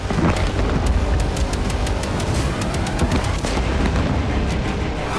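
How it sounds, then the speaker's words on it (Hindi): Explosion at a military training ground in Rostov, Russia, during a Ukrainian drone attack, heard as dense, loud rumbling blasts with sharp repeated cracks over a continuous roar, no voices. "एयर डिफेंस से ड्रोन गिराने का अभियान शुरू हुआ, लेकिन धमाका टाला नहीं जा सका।"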